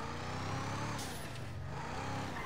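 An Albany Roosevelt car engine in the GTA V video game gives a steady, low idling rumble with a faint higher whine and a brief hiss partway through, heard alone without talk.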